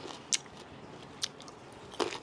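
Three crisp, close bites into a crunchy, sweet raw snack of carrot and apple, spaced apart, each a sharp crunch with no talking in between.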